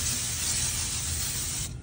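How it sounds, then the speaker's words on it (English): Brake cleaner sprayed from an aerosol can onto the rear brakes of a 1997–2003 Ford F-150 pickup, a loud, steady close-up hiss that runs without a break and cuts off abruptly just before the end. "I'm gonna give it one final spray with the old brake clean."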